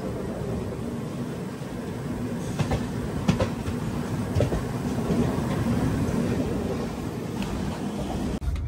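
The Andaman Express passenger train rolls past nearby with a steady roar of wheels on rails and scattered clicks and clacks of the coaches running over track joints, heard from aboard another train.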